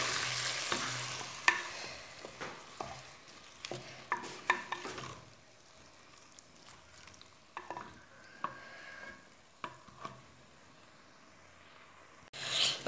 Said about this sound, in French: je vais pouvoir ajouter l'oignon et les faire revenir ensemble